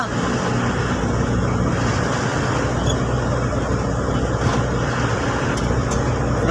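Dense road traffic backed up near a toll gate on a Philippine expressway gives a steady, loud wash of car and truck engine rumble and tire noise that stays unbroken throughout.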